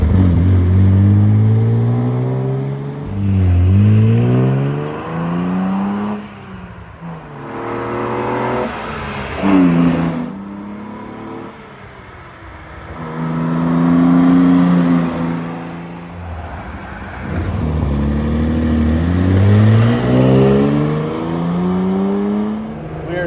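A 1965 Maserati Sebring 3500 GTI Series 1 by Vignale accelerating on the road, its engine note climbing loud and close through repeated rising sweeps as it works through the gears, with no talking.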